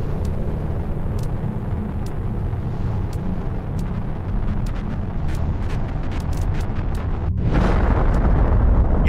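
A rocket launch in The Planet Crafter video game: a steady low rumbling roar with faint high clicks, swelling into a louder, fuller blast near the end.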